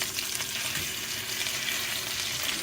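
Grouper fish fries in a pan with a steady, even sizzle and crackle. It is close and continuous, with no voices.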